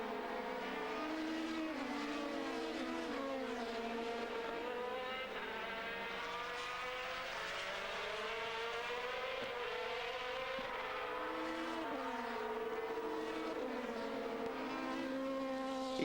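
Formula 3000 race cars at Imola in the 2000 International Series, engines screaming at high revs with rising and falling pitch as the light, nimble cars pass, a continuous loud racing roar.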